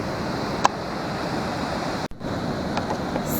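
Ocean surf washing onto a beach in South Africa, a steady broadband roar close by, with a brief knock and a short dropout partway through and no voices.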